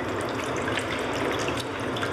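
Tap water running while hands are rinsed under it, a steady close rush and splatter of flowing water into a sink, loud and continuous with no talking.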